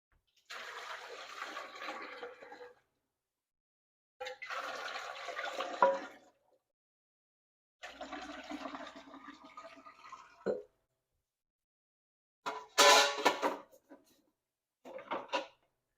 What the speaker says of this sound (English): I need to add my water first